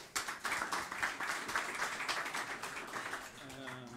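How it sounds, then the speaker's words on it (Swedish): An audience applauds two debate contestants at an indoor event, with steady, fairly quiet clapping from many hands that thins out as a voice begins speaking at the end. "En varm applåd för Allan och Helen"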